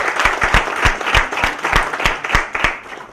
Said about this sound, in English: So a big round of applause for the panelists.